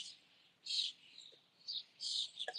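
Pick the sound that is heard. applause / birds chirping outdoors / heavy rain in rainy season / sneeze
birds chirping outdoors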